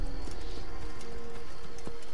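Horse hooves gallop in the Assassin's Creed video game, a steady, rapid clip-clop rhythm, close and fairly loud, with no talking over it.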